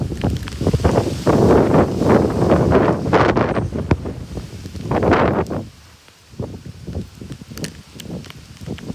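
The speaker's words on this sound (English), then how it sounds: "Extremely windy." Strong derecho wind gusts roar and buffet the microphone in heavy, rumbling surges, easing briefly near the six-second mark before gusting again in choppy bursts.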